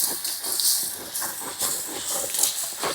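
Finely chopped tomatoes hit a hot pan of fried ginger-garlic paste for gongura chicken, cooked outdoors at a chili-field campsite, producing a bright, pulsing hiss that swells and eases several times.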